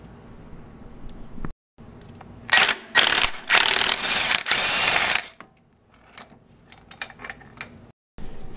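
An impact wrench loosens the drive pulley bolt on a fifth-generation Honda Prelude in several loud bursts of hammering rattle, separated by brief pauses and followed by lighter clicks and clinks of tools.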